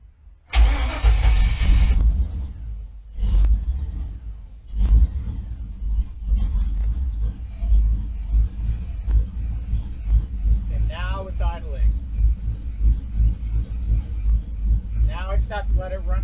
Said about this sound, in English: This time I'm going to give it a little bit of gas on startup.